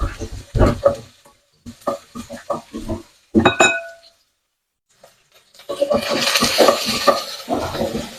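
Onion and garlic sauté in hot oil in a pan while prawn sothi is cooked; a steady bright hiss swells up partway through under a talking voice, after earlier bursts of speech and clattering utensils.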